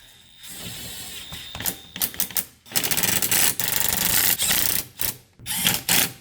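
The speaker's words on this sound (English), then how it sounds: "grab your favorite impact driver and get a 14mm flex socket on it and run the bolts up" An impact driver with a 14mm flex socket running up bolts on a 2012 Subaru Impreza rear wheel hub, loud rattling hammering bursts in several runs separated by short pauses, close up.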